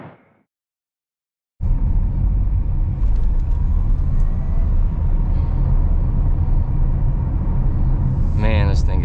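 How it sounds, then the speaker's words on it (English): A Tesla Model S electric car driving on the road gives a steady, close interior rumble of tyre and road noise. It starts after a short quiet gap and runs continuously, with a brief whine near the end. "So we're gonna go drive it around and see what it can do."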